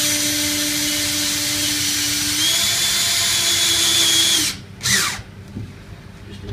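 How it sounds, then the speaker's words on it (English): Power drill driving a self-tapping screw into a StyroRV composite panel while fitting a EuroVision window blind ensemble, a steady loud whine that winds down abruptly near the end, followed by a short burst and faint clicks. "you screw the blind ensemble to the inside of the composite panel"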